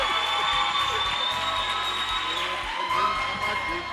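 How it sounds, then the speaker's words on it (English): Steady applause and scattered cheering from an audience at a community radio and performing arts summit, a dense continuous wall of clapping heard close within the hall, briefly thinning before swelling again. "Can you please give a round of applause?"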